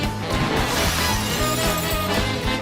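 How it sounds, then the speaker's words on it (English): Ice shattering under Donkey Kong's punches in a Nintendo Switch 2 game, a dense, loud burst of crunching, cracking fragments with rhythmic thuds underneath, sustained without pause and no voices. "Ice shatters differently from dirt."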